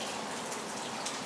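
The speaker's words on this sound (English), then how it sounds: "it's raining" Steady, soft rain patters close by with a dense, even hiss and scattered light drops, quiet and unbroken with no voices.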